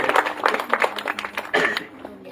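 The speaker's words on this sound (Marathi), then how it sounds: "योगीजी महाराजांच्या नावाने एकदा टाळी वाजवा." Audience clapping at a Shrimad Bhagavat Katha gathering held as a first-year memorial rite, a brief burst of hand claps with voices and a short chuckle mixed in over about two seconds.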